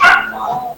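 A dog barks once loudly and close by, a short yelping bark that trails off into a brief whine.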